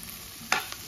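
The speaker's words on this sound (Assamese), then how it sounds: "এইফালে ভাজি বনাই আছোঁ" Vegetable bhaji cooking in a pan at home, with a steady low sizzle and a sharp stir or scrape near the middle followed by a fainter one, close by with no talking.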